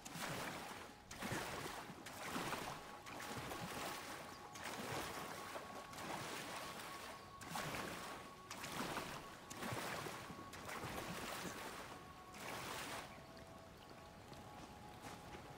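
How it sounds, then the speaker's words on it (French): A forest waterfall in the video game Nightingale, a faint continuous rush of falling water that swells and eases in repeated surges, with no talking. "Wow, une cascade ici"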